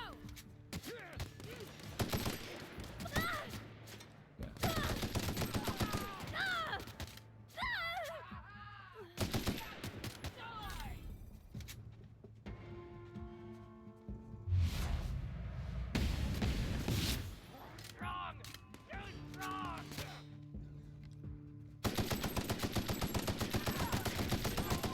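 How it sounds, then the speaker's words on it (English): Bursts of machine gun fire and other gunshots ring out in combat in the video game The Outer Worlds, in rapid volleys between quieter stretches with game sounds and a voice. "That's what machine guns are for."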